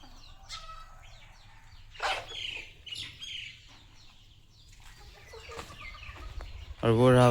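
Chickens on a small farm cluck and chirp in scattered bursts, near and moderately loud, with a louder squawk at the end.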